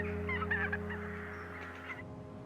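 A small flock of about fifteen Greenland white-fronted geese honks in flight over the wetland at Ynys Hir; repeated nasal, yelping calls come in a loud, close burst, then break off abruptly.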